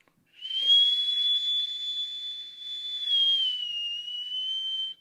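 A person whistles one long, clear, steady high note, then slides a little lower and holds it, loud and close with no talking.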